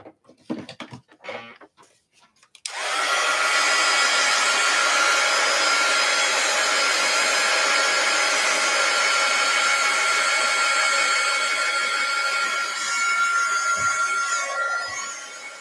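A heat tool drying wet paint on cardstock switches on after a few soft handling knocks and then blows a loud, steady, close-up whoosh for over ten seconds before easing slightly at the end.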